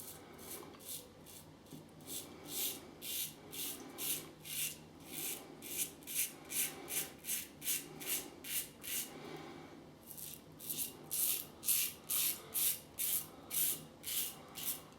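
Fatip Grande safety razor with Clubguy shaving soap scraping over stubble, rhythmic rasping strokes in quick repeated bursts, close and fairly faint, with a brief pause mid-shave and no speech.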